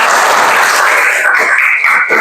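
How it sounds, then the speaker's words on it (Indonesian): Classroom applause for a student group after a prize is handed out in an Arabic vocabulary game, loud steady clapping that fills the whole stretch with no talk over it. "Tepuk tangan untuk kelompok 2."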